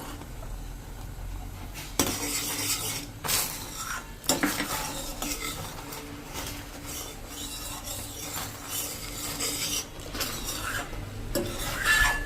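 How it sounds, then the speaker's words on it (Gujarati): A metal spoon stirs rabri with a few strands of soaked saffron in a pot for Rajasthani malai ghevar, giving repeated scraping and clinking against the pot with some sharper knocks, close and steady, with no voices. "જે આપણે આ કેસર ઘોર્યું છે ને 2 થી 3 તાતણા જેવું, એને આપણે આ રબડીમાં નાખી દેશું અને 1 મિનિટ ચલાવશું"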